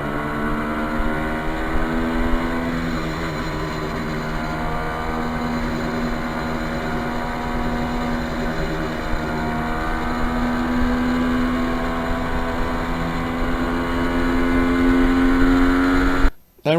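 A 1973 Kawasaki H1 motorcycle being ridden holds a loud, continuous engine drone for about sixteen seconds, its pitch slowly rising and falling, then cuts off abruptly.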